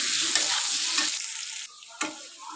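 Potatoes frying in hot oil in a pan for a fish roe fritter dish, a steady loud sizzle with sharp scraping stirs near the start and again near the end, no voices.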